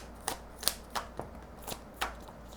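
Tarot cards shuffled and flipped in short bursts, six crisp riffling snaps spaced unevenly across a quiet room, close and moderately loud with no talking.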